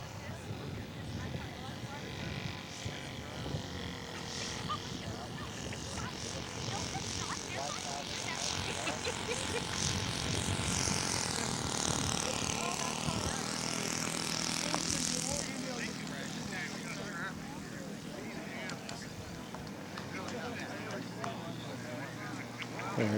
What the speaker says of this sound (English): Dick Hansen coming in for touch and go.